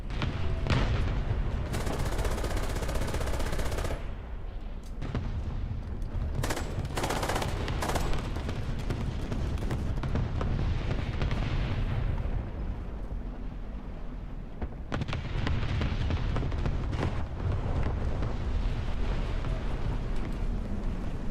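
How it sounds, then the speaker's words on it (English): A tank's ammunition box blows up in War Thunder amid a continuous, loud battle din of machine-gun bursts, gunfire and heavy booms lasting throughout, with no voice present. "Oh, I hit his ammo box, I guess."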